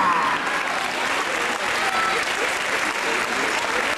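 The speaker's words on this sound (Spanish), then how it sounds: "aplauso para él." Dense, steady crowd applause fills a boxing event in Ourense as boxer Antonio Neira is introduced, continuous and loud throughout, with an announcer's voice faintly under the clapping.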